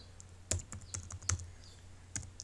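Keys on a computer keyboard clack in short bursts as a command is typed into AutoCAD, close and clear, with a few sharper presses like the enter key standing out.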